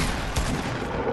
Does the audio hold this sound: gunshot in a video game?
yes